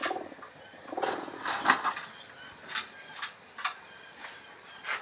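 Pigeons in a loft, including pairs sitting on eggs, give low intermittent coos and rustles in scattered bursts, moderately close, with no speech.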